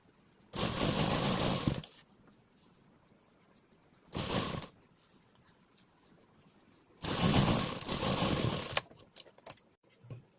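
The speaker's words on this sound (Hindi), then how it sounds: "ध्यान रहे कि इलास्टिक पे सिलाई नहीं लगानी है, उसके साइड से लेंगे।" A sewing machine runs in three separate bursts, stitching elastic onto a blazer pant waistband, each run a rapid buzzing whir, with quiet pauses between.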